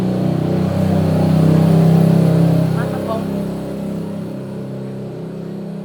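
A motorbike passes by outdoors. Its mid-pitched engine drone swells over a couple of seconds, then fades away while people keep talking over it.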